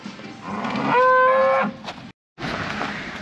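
A cow out on pasture gives one long, loud moo close by over steady outdoor noise, with a short drop to silence before the noise resumes.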